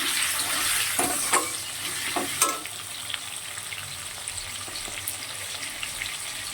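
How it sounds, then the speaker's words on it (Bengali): Potatoes frying in a pan, a steady close sizzle with several sharp spatula scrapes early on, then softer crackling that continues evenly to the end. "আলুটা খুব ভালো করে ভেজে নেব।"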